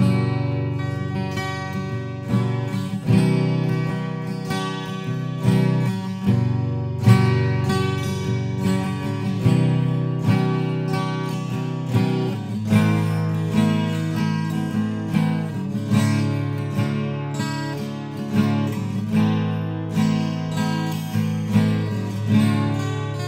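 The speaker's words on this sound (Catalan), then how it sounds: "I ara només vaig a pujar el potenciòmetre que em diu xoros i passa això." Yamaha TransAcoustic guitar, unplugged, played with its chorus effect turned up: sustained, shimmering strummed chords ring out steadily for the whole stretch, full and close with a gently swirling, doubled tone and no talking.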